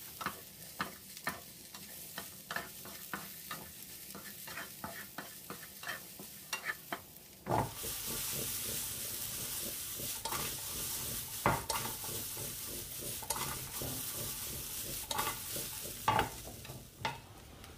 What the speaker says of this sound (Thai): ระดับไฟเราก็ใช้เป็นระดับไฟอ่อนครับคั่วจนหอมสุกเลยนะครับ